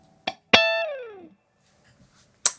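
A clean electric guitar through a Klon Centaur pedal plays a few plucked notes, one sustained note sliding down and decaying into a touch of amplifier reverb, with quiet gaps between.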